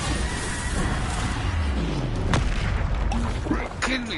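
A Bombarda explosion spell goes off in Hogwarts Legacy, a loud booming blast with sharp cracks and swooping magical effects layered over busy combat noise.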